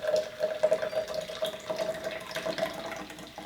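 Cocktail poured from a bottle into a chilled highball glass, a steady liquid stream with a thin bubbling fizz running close and unbroken throughout, with no talking over it.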